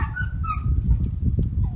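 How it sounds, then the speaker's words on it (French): A dog gives a few short yips and whimpery barks at moderate distance over low background rumble, with no talk. "Vous entendez mon chien qui aboie"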